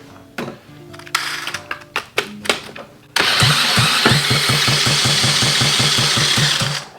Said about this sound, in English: I'm gonna go ahead and use my electric starter.